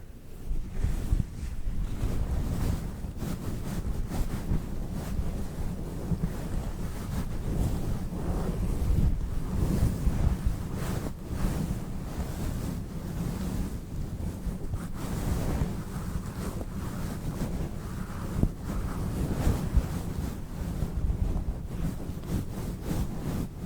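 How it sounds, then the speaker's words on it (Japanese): A towel rubbing wet hair during ASMR role-play, heard as a close, continuous soft rustling and muffled scrubbing that carries on steadily for over twenty seconds with no talk. "ほら、もう乾かすからさ、ちょっとタオル貸して。"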